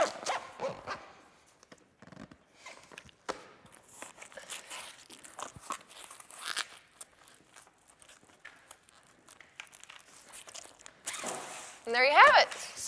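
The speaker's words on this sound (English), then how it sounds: "just to get the zipper started" A zipper is pulled along a vinyl side window of a Bestop Supertop NX soft top on a Jeep Wrangler JK in a quick rasping run near the end, after a stretch of soft handling noises and rustling.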